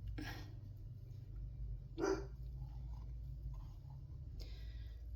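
A dog barks indoors, three or four faint separate barks spaced a second or two apart over a low steady hum, with no one talking.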